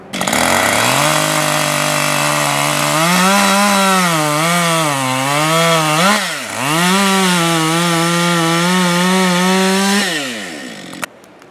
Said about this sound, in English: get the chainsaws out, and let's see what we can do